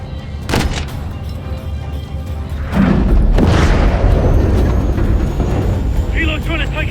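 Heavy gunfire and deep booms aimed at an enemy helicopter in Call of Duty: Modern Warfare 3, a sustained, loud barrage that swells partway through, with voices speaking over the noise.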